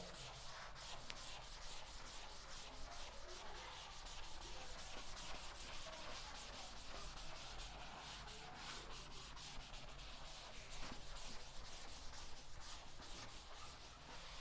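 Writing is rubbed off a board during a physics lecture, a continuous faint scratchy rubbing that runs steadily for about fourteen seconds with no speech.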